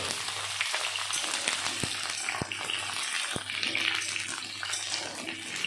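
Carrot, cauliflower and pumpkin fry in a pan of oil, giving a steady hiss and sizzle with crackles throughout, close and even, plus a few sharp clicks.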